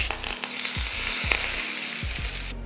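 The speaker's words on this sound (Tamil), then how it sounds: "இப்போ இதை சட்னியில் ஊற்றிடலாம்." Hot oil tempering with mustard seeds, a dried red chilli and curry leaves being poured into chutney, giving a steady loud sizzle and crackle that carries throughout, with low utensil knocks beneath.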